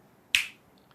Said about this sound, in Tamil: சொடக்கு போட்டு வேற பேசுறாரு.